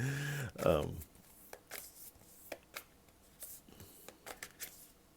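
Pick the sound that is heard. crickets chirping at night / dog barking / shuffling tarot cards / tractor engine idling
shuffling tarot cards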